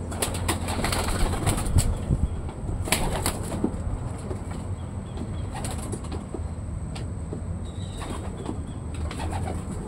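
Pigeons being trained coo softly amid bursts of wing flapping, with scattered rustling and outdoor noise throughout.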